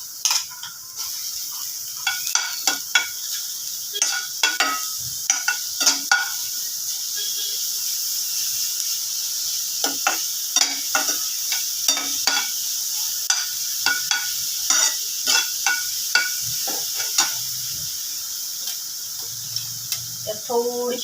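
Chopped onion frying in a pan as a garlic-green chili paste goes in, giving a steady high sizzle broken by frequent scraping stirs of a spoon.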